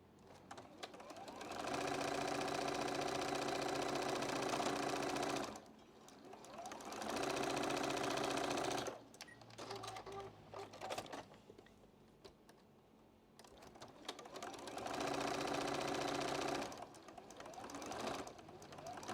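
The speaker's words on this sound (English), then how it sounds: "So then you sew down your two white lines again." Sewing machine stitching quilt block seams for an Ohio Star block, a steady mechanical whir that runs in three long bursts with quiet pauses between them.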